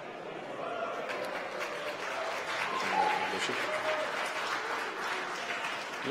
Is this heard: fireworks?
no